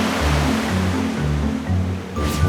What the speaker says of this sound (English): Do you remember the sound the water made when we were on the beach?